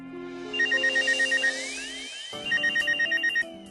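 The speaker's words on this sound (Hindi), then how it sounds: "किसका फोन है? कोई नया नंबर है" A mobile phone ringtone plays a repeating electronic melody with beeping tones, loud and close, with no voices over it.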